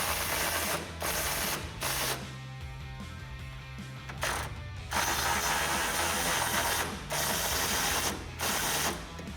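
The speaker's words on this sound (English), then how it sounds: "grab an 18 millimeter socket and a ratchet or an impact gun if it'll fit. Go ahead and take them off." Hand ratchet with an 18 mm socket backing off nuts on a 2019-2021 Silverado or Sierra 1500 rear bumper, close rapid clicking in repeated bursts separated by short pauses, with no one talking.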